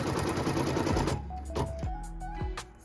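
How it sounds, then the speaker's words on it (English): A home sewing machine stitches the cut line on a quilt block piece, with a brief rapid rattling run followed by a few short whirring bursts and soft clicks close by. "So now we're stitching the cut line for our last piece for our block."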